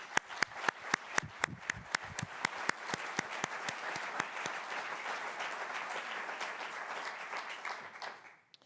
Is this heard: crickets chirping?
no